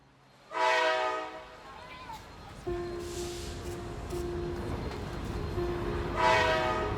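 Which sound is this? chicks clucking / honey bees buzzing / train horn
train horn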